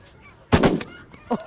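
A single loud shotgun blast, sharp and close, during a goose hunt in South Dakota, followed by a short honk from a goose moments later.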